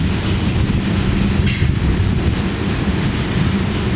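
A BNSF eastbound ethanol freight train rolls steadily past in Minneapolis, a continuous loud rumble of wagons with rhythmic wheel clatter and a brief hiss, no voices.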